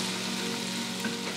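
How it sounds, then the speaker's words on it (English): Chopped onion sweating in butter in a pan over medium heat, a steady close sizzle running the whole time with faint stirring clicks near the end and no talking. "We're gonna drop it right into the butter. And we want to sweat these guys out."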